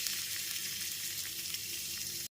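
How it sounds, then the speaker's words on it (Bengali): Finely chopped garlic sizzles in hot oil in a wok for white sauce pasta, giving a steady, close hiss that cuts off abruptly. "তেলটা এখানে গরম হয়ে গেছে এরপর এর মধ্যে ছটা থেকে সাতটা রসুনের কোয়াকামি আমি একদম কুচি করে নিয়েছি সেটা দিয়ে দিলাম"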